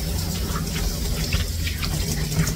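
Water runs steadily from a tap while soap is rinsed off a Yorkie during grooming, a constant close splashing hiss with no breaks and no voices.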